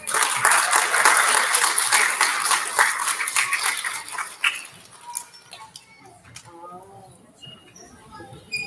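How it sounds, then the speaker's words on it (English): An audience at an elementary school recognition ceremony gives a burst of applause, dense clapping that fades out after about four seconds, leaving a quiet room with faint stray sounds. "Big round of applause for our first grader."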